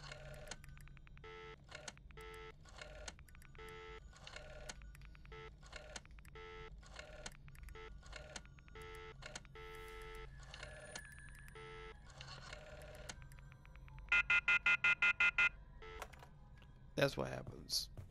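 Telephone tones from the Friday the 13th video game's virtual cabin, a series of evenly spaced dial beeps followed by a rapid burst of ringing pulses near the end, close and clear over a low background hum.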